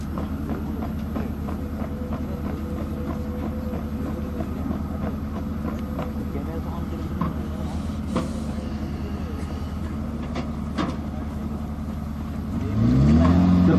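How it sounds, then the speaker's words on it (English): A towed artillery gun crawling along under its own auxiliary power unit at walking pace, a steady low engine drone with faint mechanical clanks, rising suddenly louder in the final second. "Using the auxiliary power unit, the gun can move at a maximum speed of 7 kilometers per hour."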